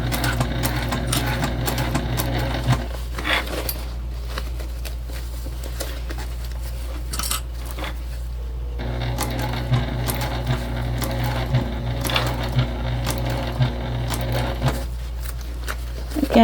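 A sewing machine stitches a travel sling bag in bursts, its steady mechanical whir running close and loud for several seconds, pausing briefly, then resuming with light clicks of fabric and hardware between runs.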